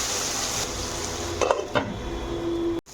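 Chopped tomato and onion shoots fry in a pan with a constant soft sizzle, broken by a couple of brief scraping clatters from a utensil and a metallic clink near the end, with no voices.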